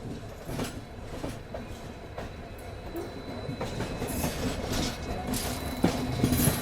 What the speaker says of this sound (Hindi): फिलहाल यहाँ देखिए डीजल लोकोमोटिव।